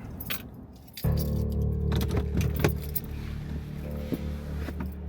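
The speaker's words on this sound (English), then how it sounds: "I'm gonna open the Forest Service gate and just drive my truck out" Keys jangle while a Forest Service gate is being opened in a national forest, with a few light metallic clinks over a steady idling truck engine hum, and no one speaking.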